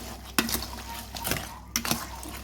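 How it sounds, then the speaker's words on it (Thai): Pickled field crab marinade stirred in a pot, with a few distinct scraping clinks of a utensil against the container amid quiet liquid movement. "เราก็คนส่วนผสมทุกอย่างให้เข้ากัน"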